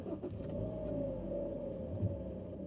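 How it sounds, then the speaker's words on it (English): A car engine idles with a low, steady hum from inside the vehicle, continuous and moderately quiet, with a small bump near the end. "the engine sound might be getting too loud"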